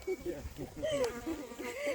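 Honey bees buzzing while their hive is being moved, a wavering, rising and falling drone heard close and fairly soft, with faint voices in the background.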